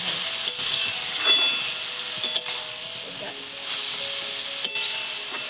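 Bottle gourd and mung dal being stirred in a pan, a steady sizzle with occasional scraping and clinking strokes of the spoon, close up and without talk.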